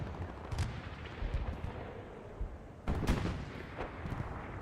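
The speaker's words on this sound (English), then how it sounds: "Here's the MG." Machine gun bursts from a WWII North Africa strategy game skirmish at El Alamein, Afrika Korps against the British 8th Army, crackling in short sharp volleys amid a steady rumbling battlefield din, with a louder cluster of shots near the end.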